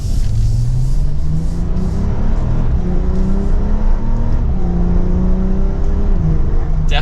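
A Porsche 911 Targa 4S accelerates hard, its engine note climbing steadily through the revs with a loud continuous roar and rumble heard from inside the car.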